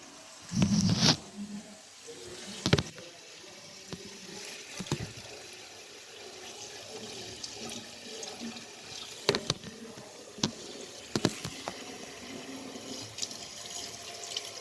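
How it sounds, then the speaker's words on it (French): Rice being rinsed under running tap water in a sink, a soft continuous trickle with sharper splashes and clinks as the grains are stirred, close and fairly quiet. "Qu'on va rincer pour enlever l'amidon."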